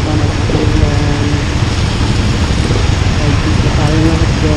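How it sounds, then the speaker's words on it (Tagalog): Heavy rain pours down in a steady, dense roar during a motorcycle taxi ride, loud and close with a constant wash of noise and a voice speaking beneath it. "Pakalakas ng ulan."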